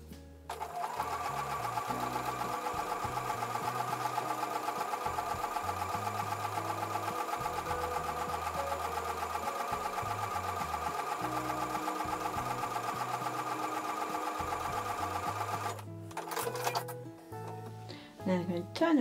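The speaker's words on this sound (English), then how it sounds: "I'm going to sew 1/4 inch away from that drawn line." Sewing machine stitching a quilt block a quarter inch from a drawn line, a steady rapid mechanical chatter running continuously for about fifteen seconds before stopping, followed by brief handling noises.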